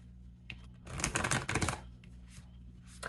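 Tarot cards drawn and shuffled for a pick-a-card reading: a dense burst of papery riffling and flicking in the middle, with a few lighter card slaps before and after over a faint hum.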